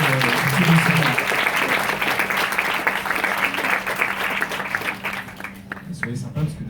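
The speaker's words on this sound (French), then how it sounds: "On peut aussi l'applaudir, parce que c'est un vrai boulot de distribuer ce film." Audience applause at a cinema screening Q&A, dense clapping filling the room and continuing under a steady hum, with voices talking over it toward the end.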